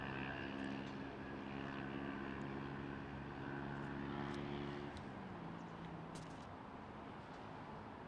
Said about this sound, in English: No, that's a Dreamliner, isn't it?